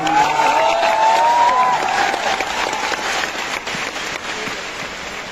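Audience applause fills an auditorium at a large event, dense and steady clapping throughout with a sustained tone running over it early on, tapering slightly toward the end.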